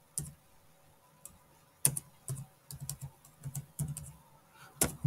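Keys on a computer keyboard are pressed to paste with Ctrl+V, giving quiet, close, scattered clicks and taps in short irregular clusters against a near-silent background, with no voices.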